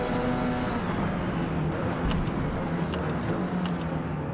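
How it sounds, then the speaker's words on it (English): Engine drone of GT race cars passing during a retro endurance race at Road America in Forza Motorsport, a steady mid-level roar with faint whooshes of cars going by and no talking. "Oh, here comes the GT3 cars."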